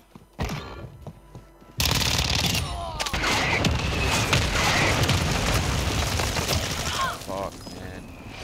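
Heavy Warzone 2 gunfire erupts after a brief quieter lead-in, a dense, loud barrage of rapid shots and booms that stays sustained to the end, with a radio-style voice briefly over it.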